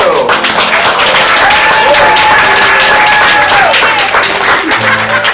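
Audience applause at a ComedySportz comedy show fills the room steadily for several seconds, dense clapping mixed with crowd noise and a few scattered voices, with a faint whistle-like tone running through it.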